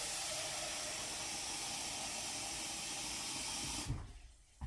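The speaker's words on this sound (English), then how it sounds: "I'm going to put either 6 or 8 cups of water." Water pours steadily into a pot holding two cups of dry pinto beans, a continuous hissing rush close by that stops abruptly near the end, with no talking.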